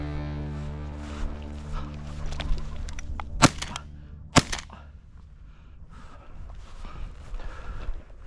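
Two sharp shotgun blasts fired at flushing sharptail grouse on open prairie, about a second apart, loud and close over a low engine-like rumble and faint rustling.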